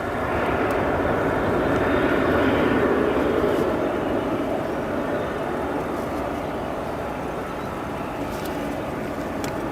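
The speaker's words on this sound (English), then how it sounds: "We're gonna have a Lufthansa heavy departure, folks." A Lufthansa heavy jet departing O'Hare gives off a loud, sustained broadband engine roar that swells near the start and holds steady, with no talk over it.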